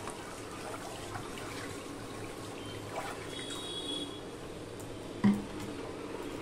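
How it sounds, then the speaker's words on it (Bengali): Water rinsed from a curd bowl pours into a pot of papaya curry, a soft, faint trickle and splash in a quiet kitchen with one small clunk near the end. "এবার টক দইয়ের বাটিটা ধুয়ে আমি জল দিয়ে দিলাম"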